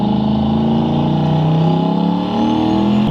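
A loud, deep turbocharged 5.3 engine in a lifted 2014 Chevrolet Tahoe rumbles up close, revving steadily with a throaty, slightly fluctuating growl the whole time.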